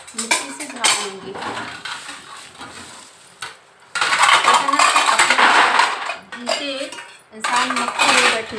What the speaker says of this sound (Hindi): यहाँ पे आपको आवाज़ आ रही है वो बर्तन की